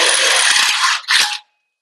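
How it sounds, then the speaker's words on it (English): Metal of a Mercedes Sprinter 170 van drilled through a guide hole during a bed frame install: a loud, steady grinding whir for about a second, a brief pause, then a shorter burst before stopping. "So I'll go ahead and drill this."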